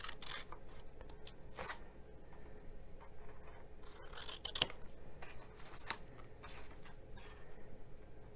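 Scissors cut paper for party favor boxes in a series of quiet, scattered snips and rustles, close by and fairly faint, with no talking.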